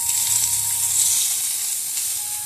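Water poured onto meat frying in a pan sets off a loud, steady sizzle with a hissing, crackling wash that runs throughout, close and without talk.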